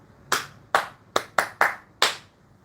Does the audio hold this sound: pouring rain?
no